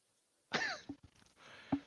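A single short cough, close and fairly quiet, followed by a brief throaty rasp and a second small cough, in an otherwise quiet indoor setting.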